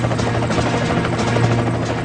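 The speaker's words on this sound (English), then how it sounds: "A United States Coast Guard air rescue helicopter races into hostile territory." A United States Coast Guard air rescue helicopter flies close and loud, its rotor chopping in a rapid, steady pulse under a heavy engine roar with no voices.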